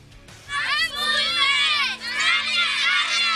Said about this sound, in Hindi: जनूबी वजीरिस्तान में स्कूल की बच्चियां नारे लगा रही हैं तालीम हासिल करने के लिए